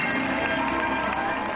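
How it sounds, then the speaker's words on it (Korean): Standing ovation from the audience at the close of a fashion show: dense, sustained clapping and crowd noise, loud and even throughout, with no distinct speech. "좀처럼 볼 수 없는 기립박수가 터져 나왔습니다."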